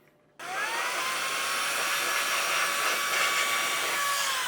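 A Nitecore electric USB-C camera lens air blower switches on after a moment of quiet and runs as a steady, high-pitched whirring rush of air, close and constant to the end.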